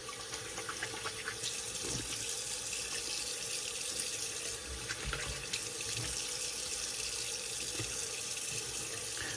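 Water runs steadily from a tap while a razor is rinsed off beneath it, a continuous close hiss and splash with no pauses and no voices.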